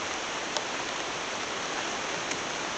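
Steady, dense rainfall hisses evenly and continuously all around, with a couple of faint sharper drips or taps standing out; no voices are heard.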